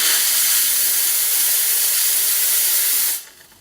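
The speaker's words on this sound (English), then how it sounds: "When steaming, you'll turn the steam wand slightly as you build swivel motions in the milk." A Lelit Mara espresso machine's steam wand hisses steadily and loudly while steaming milk, a close, continuous rushing spray that cuts off abruptly near the end.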